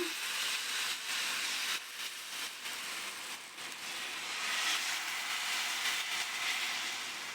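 Rava dosa batter poured onto a hot griddle, giving a steady, broad sizzling hiss close by that holds evenly throughout with slight swells, and nobody speaking.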